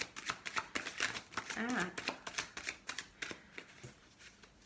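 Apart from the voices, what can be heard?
shuffling tarot cards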